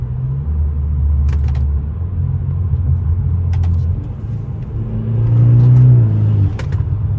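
A BMW F30 engine rumbles steadily, then swells in a brief rev blip near the end as the gearbox downshifts quickly, heard from inside the car.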